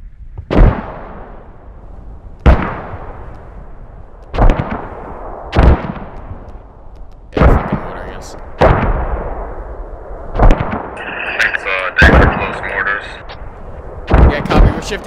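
Mortar rounds firing in the Squad video game thump out in a steady sequence, about nine loud, sharp booms each roughly two seconds apart with ringing decays, and a voice talking faintly in between.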